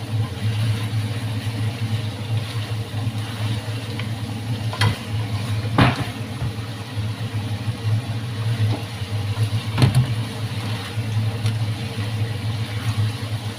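Chicken with onion, ginger, garlic and tomato frying in oil in a pan, a steady low sizzle with a constant hum underneath and a few sharp stirring clinks near the middle and end.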